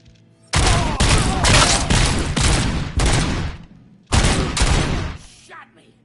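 Loud automatic gunfire in a RoboCop shootout, two long close bursts of rapid shots split by a brief pause, with the echoes dying away after each burst.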